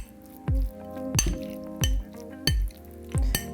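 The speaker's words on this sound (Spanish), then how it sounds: "Lo primero que vamos a hacer es mezclar todos nuestros ingredientes" A utensil clinks against a bowl while ginger and olive oil are mixed into a hair mask, in sharp knocks roughly every second over a soft stirring sound, with no speech.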